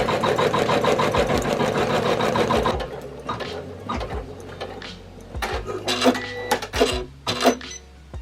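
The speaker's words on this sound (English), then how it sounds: "At the minute it's only on 400 so stitches per minute, so really I need to speed it up a bit." A single-needle embroidery machine running at 400 stitches per minute chatters in a fast, even rhythm for a few seconds and then stops, followed by irregular mechanical clunks and whirs of the machine resetting, close up with no talking.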